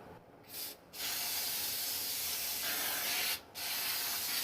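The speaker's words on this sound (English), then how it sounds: "let's go on ahead and spray and dust our pan" Butter-flavored cooking spray hisses from a can onto a baking pan in three bursts: a short pair of puffs, then one long steady spray of about two and a half seconds, with a brief pause before a final burst. The sound is close and dry, with no talking.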